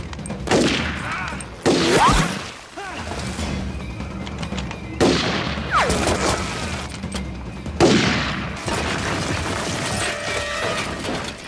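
Bursts of gunfire in the war film Behind Enemy Lines ring out in several loud volleys separated by short pauses, sharp cracks echoing over a dramatic soundtrack.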